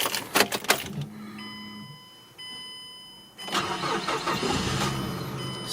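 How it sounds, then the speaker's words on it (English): A few clicks and dashboard chimes, then the engine of a 2007 Mazda 3 with a transmission shift solenoid B fault cranks and catches, settling into a steady rumbling idle. "Let's start the car."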